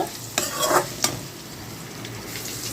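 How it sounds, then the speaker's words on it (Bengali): A spoon stirs curry frying with turmeric and salt in a pan, scraping twice in quick strokes over a continuous soft sizzle, close and fairly clear with no voices. "এরপরে কিন্তু ভালো করে একটু নাড়িয়ে নেব।"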